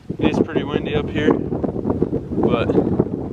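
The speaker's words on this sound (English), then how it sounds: "Sorry about the wind. It is pretty windy up here" Strong wind buffets the microphone up on a mountain ridge during elk hunting, a loud, steady rushing roar with a person talking over it throughout.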